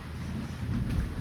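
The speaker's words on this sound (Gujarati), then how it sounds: "ગાજગીજ ચાલુ છે મિત્રો" Thunder rumbling during a violent windstorm, a low continuous roll with a soft hiss of rain over it, moderately loud and without speech.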